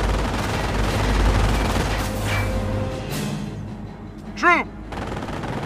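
Gunfire in the World War II strategy game Company of Heroes, set around St. Lô: a steady rumble of distant shots and explosions under a shouted soldier's command, with a sharp whistling ricochet near the end.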